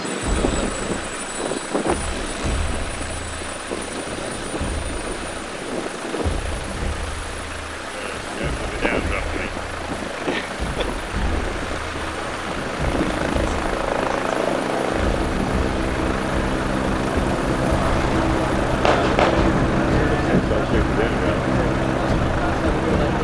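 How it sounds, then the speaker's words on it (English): A helicopter hovers and flies in reverse at a military vehicle show with tanks and trucks, its steady rotor roar and engine drone continuous throughout, growing louder toward the end, with people chatting nearby. "That's weird, doing a reverse in a helicopter."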